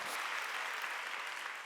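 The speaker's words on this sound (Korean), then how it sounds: "하나님께 박수치고" A church congregation at a Wednesday worship service applauds God, producing a steady, even wash of many hands clapping throughout, fairly distant and without talk.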